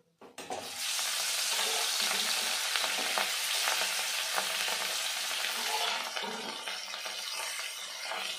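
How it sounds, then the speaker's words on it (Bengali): Rohu fish pieces fry in hot oil, a loud, dense sizzle that starts abruptly as they hit the pan and crackles on steadily, with occasional faint knocks and no talking. "বাকি মাছগুলো আমি একইভাবে ভেজে নেব।"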